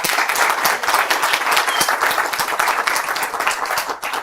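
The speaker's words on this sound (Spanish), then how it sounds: "Por favor, un fuerte aplauso." Steady audience applause at a Python programming conference in Colombia, a dense continuous patter of many hands clapping throughout with no voices over it.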